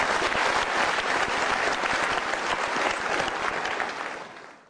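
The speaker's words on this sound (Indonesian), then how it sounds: "kita berikan tepuk tangan dulu" Audience at an exam-preparation seminar for students giving a dense, loud round of applause, continuous clapping from a large crowd that tapers off at the end.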